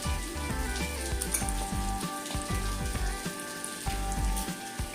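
Fish roe fritters made with gram flour frying in hot oil, a close, steady crackling sizzle with rapid popping bubbles, continuous throughout and free of speech.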